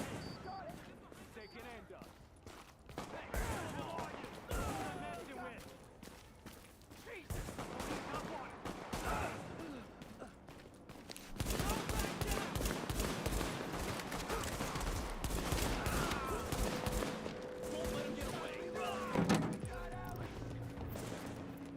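Gunfire in The Division, including shots from a Mosin bolt-action rifle, crackles as a sustained run of shots and bursts through the scene, with talk over the shooting.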